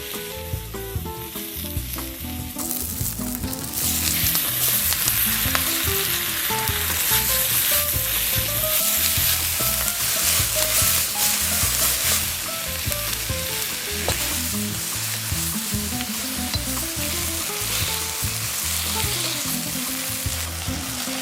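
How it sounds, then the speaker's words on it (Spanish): Vegetables sauté in hot oil in a wok, a loud, steady sizzle and crackle that runs for about twenty seconds, with faint stirring scrapes and a quieter opening. "Agrego mis ingredientes al wok, sofreímos."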